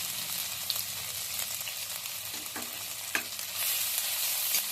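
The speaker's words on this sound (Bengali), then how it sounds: "এবার কড়ার মধ্যে দিয়ে দিচ্ছি আমি মানে তেলের মধ্যে দিয়ে দিচ্ছি আমি গ্রেট করে রাখা আদা" Grated ginger dropped into hot oil in a wok, sizzling and frying with a steady hiss and occasional stirring scrapes, close and alone with no talk.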